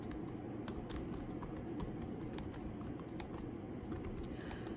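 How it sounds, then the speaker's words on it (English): Steady typing on a computer keyboard, a continuous run of close, crisp key clicks with no voices. "you won't adjust the font size until you get done typing"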